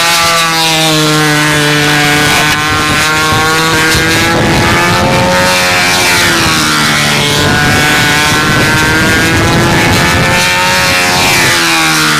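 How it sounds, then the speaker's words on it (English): A Strega control-line model airplane flies at the 1997 NATS on a windy day, its small engine screaming loud and continuous with a buzzing, rasping drone that rises and falls slightly in pitch as it circles. "That's a Strega flying right there."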